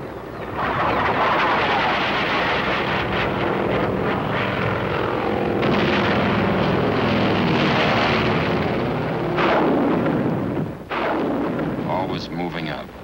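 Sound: artillery barrage fire curtain, Korean War 1951

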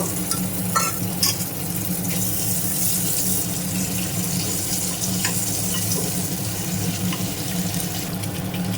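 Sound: eggs frying in mustard oil in a wok

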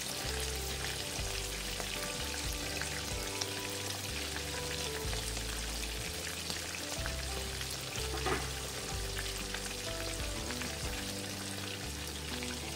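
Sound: chicken breast chops frying in a pan with tomatoes

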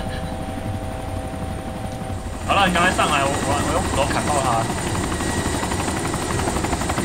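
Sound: helicopter flying in video game DayZ

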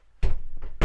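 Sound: sliding toilet door being shut in a caravan

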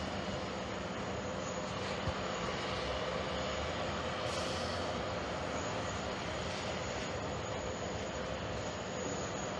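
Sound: Qatar Airways airplane taxiing at JFK Airport

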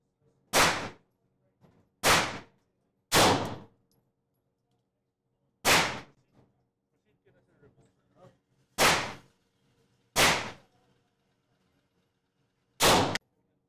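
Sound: gunshots fired at a shooting range

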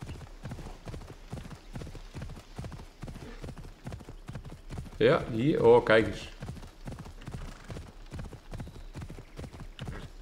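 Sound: horse hooves trotting, from video game Assassin's Creed Odyssey

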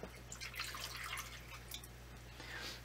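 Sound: water being added to a container

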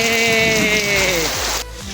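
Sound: rain

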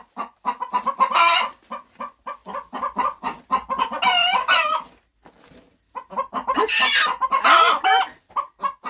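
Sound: chickens clucking and rooster crowing

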